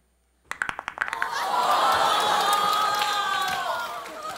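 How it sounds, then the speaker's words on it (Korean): A comedy show audience bursts into clapping, a few scattered claps that quickly swell into loud, sustained applause with cheering voices mixed in, fading slightly at the end. "박수 한번 해봐"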